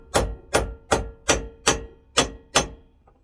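A hammer taps a crank seal home on a Suzuki TS125 engine through a socket: seven sharp, evenly spaced metallic blows about every 0.4 seconds, close and loud, with no talking.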